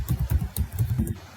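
Several quick key presses on a computer keyboard, entering a problem number during drafting software work, close and fairly loud with an irregular tapping rhythm and no talk.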